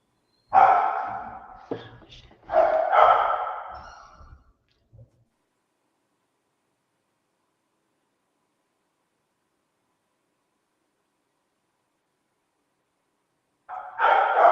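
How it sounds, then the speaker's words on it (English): A puppy barks loudly and close during an online public meeting, two bursts of barking in quick succession followed by a long silence, then another bark starting at the very end. "Can you quiet the puppy?"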